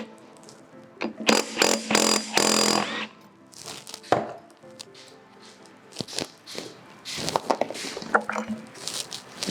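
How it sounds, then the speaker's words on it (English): Sharp metallic clanks and ratcheting bursts from a 13mm wrench or socket loosening the rear wheel nuts on an SG250 motorcycle, irregular clusters of close knocks separated by quieter gaps. "And use a 13mm wrench or socket to loosen the nuts."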